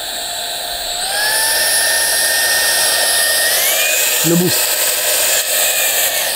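A Rowenta cordless stick vacuum cleaner runs with a steady, loud whine throughout. Its pitch steps up partway through as the power setting changes, and a brief voice can be heard.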